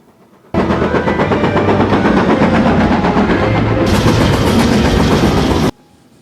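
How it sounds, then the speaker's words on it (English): A train from a Harry Potter film rolls past in a loud, steady rumble with rhythmic clattering of wheels on rails, cutting in and out abruptly and brightening partway through. "This is a beautiful train"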